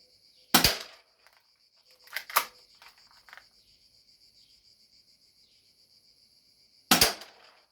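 Three sharp, loud snaps of a Browning 1911 spring airsoft pistol fired at a target, spaced irregularly with a long pause before the last, close up and with no voices.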